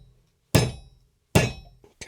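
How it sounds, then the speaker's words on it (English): Hammer strikes tightening a Dyneema button knot on a soft shackle: two loud, sharp whacks about a second apart, then two quicker lighter taps, alone with no talk. "A few whacks with the trusty hammer."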